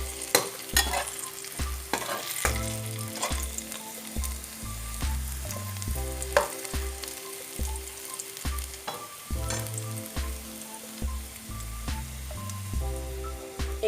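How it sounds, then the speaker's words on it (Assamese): Onions fry in a pan for an Assamese tomato and gourd fish curry, giving a steady close sizzle and crackle with stirring. Faint rhythmic music plays underneath. "পিঁয়াজখিনি ৰঙচুৱা হোৱালৈকে ভাজি লওঁ।"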